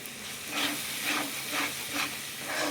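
Cashew, poppy seed and sesame masala frying for a chicken kosha, a hissing sizzle that swells and eases in regular pulses as it is stirred, close and without talk.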